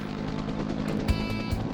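A helicopter carrying a firefighting water bucket of at least 500 gallons drones overhead, a steady rotor and engine roar with faint thumps, no voices.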